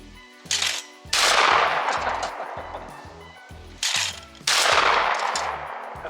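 Remington Model 11-48 shotgun, a semi-automatic, fired outdoors: two loud, sharp blasts a few seconds apart, each followed by a long ringing decay and echo, with no talking.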